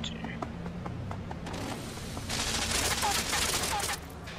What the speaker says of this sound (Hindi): machine gun bro